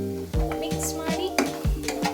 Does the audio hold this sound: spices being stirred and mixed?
yes